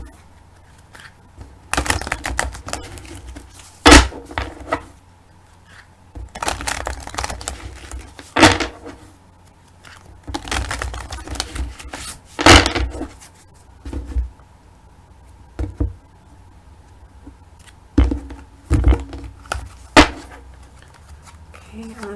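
Tarot cards being flipped over one by one during a weekly reading, giving soft, irregular snaps and slides in scattered bursts close by, with quiet pauses between and no talking.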